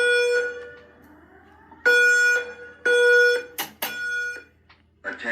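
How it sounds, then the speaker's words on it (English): A loud electronic fire alarm in a hotel stairway repeatedly sweeps upward in a whooping tone, pausing between bursts, with a brief harsh buzz near the end. "that sound, the whoop tone is in the stairways"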